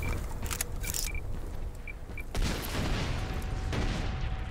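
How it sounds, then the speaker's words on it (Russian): A single grenade explosion lands as a dull, fairly distant boom partway through. Brief clicks and short tones come before it, and a rumbling tail follows. "Кидаю гранату! У нас гости! Кидаю гранату! Граната!"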